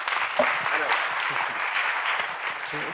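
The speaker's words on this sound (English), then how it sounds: "A big round of applause for Dr. Jan Pinkava" An audience applauds a keynote speaker, Dr. Jan Pinkava, with a steady, dense wash of clapping that holds at even volume before cutting off sharply at the end.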